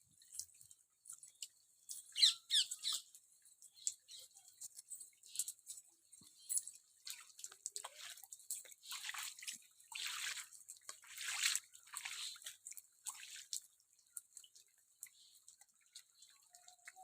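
Water dripping and trickling during heavy rain, with irregular close drops and patters spread throughout, moderately quiet with no voices.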